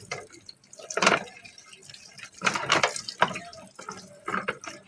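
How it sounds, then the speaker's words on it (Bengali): Tap water runs over okra being washed in a kitchen sink, with splashing bursts in three uneven waves and quieter trickling and dripping between them. "কল ছেড়ে ভালোভাবে ধুয়ে নিলাম।"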